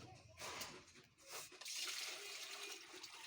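Water pours from a tap into a 6-inch round baking pan, a faint splashing trickle that swells into a steady hissing stream before easing off, with brief pauses.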